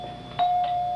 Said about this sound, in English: I can see the doorbell ringing